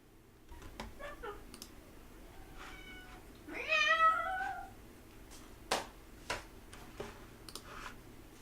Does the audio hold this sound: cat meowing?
yes